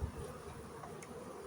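Honey bees hum steadily near honeycomb frames, a continuous soft low buzz with no talking.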